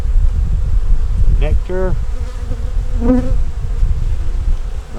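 Honey bees buzz steadily around an open hive during an inspection of brood frames, a close continuous drone with a few louder individual bees passing near, under occasional quiet speech.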